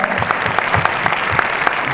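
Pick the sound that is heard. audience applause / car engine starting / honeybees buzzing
audience applause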